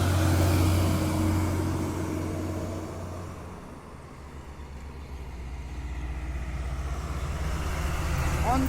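An asphalt truck rolls along a road in Cilacap, a deep engine rumble that eases and then swells again, mixed with wind buffeting on the microphone.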